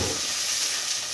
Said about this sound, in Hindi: अब घी में अजवाइन का तड़का लगाने के लिए अजवाइन डाल देंगे।